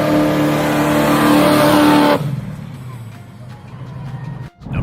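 Big V8 muscle car engine, a loud, harmonic, rumbling rev that holds for about two seconds, cuts off abruptly, then settles to a lower rumble with a brief dip near the end.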